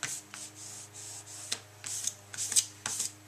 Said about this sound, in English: rub your finger up and down it.